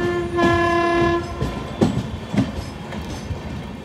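Amrit Bharat Express 15557 running on the line, a train horn sounding steadily at first, then wheels clattering over rail joints with rhythmic thumps, fairly close and loud.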